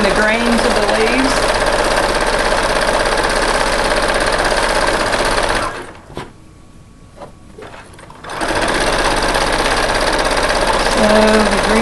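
A sewing machine doing free-motion stitching with the feed dogs dropped and variegated green thread, running in a steady fast whir that pauses briefly in the middle and then resumes, close up, with a voice talking over it.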